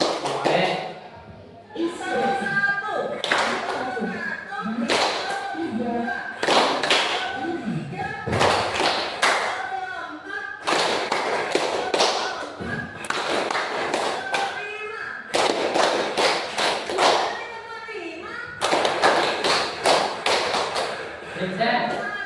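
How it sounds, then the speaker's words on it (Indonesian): Students in a grade 6 classroom clap in a call-and-response pattern game, sharp bursts of hand claps repeating in groups throughout, mixed with a teacher's voice speaking between rounds. "mulai dari tepuk satu, tepuk dua"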